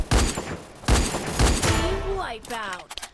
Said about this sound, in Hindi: मुझे अभी भी गन साउंड आ रहे थे